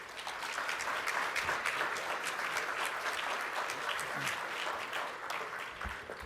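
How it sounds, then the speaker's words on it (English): Steady applause from an audience at a community celebration, greeting the board chair as he comes up; dense, even clapping holds for about six seconds with no talk over it. "Another round of applause for our CEO who makes it all happen"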